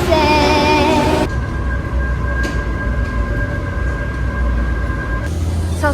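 A Paris metro train rumbles steadily inside a tunnel after a rising whine fades, with a high tonal hum over continuous loud wheel and motor noise, and a brief squeal near the end.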